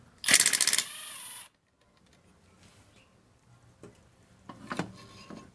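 A shoulder bolt is worked loose from the housing of a Milwaukee 0729 M28 portable band saw: a loud, rapid burst of mechanical clatter for about half a second, then a trailing rasp and faint handling clicks in a quiet room.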